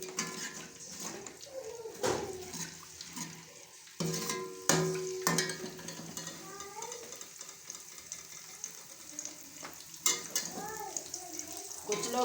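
Onions added to a pan of masala with ginger and garlic for achar gosht; soft sizzling and stirring scrapes with occasional clanks of a utensil against the pot, quiet and close, with a faint voice in the background.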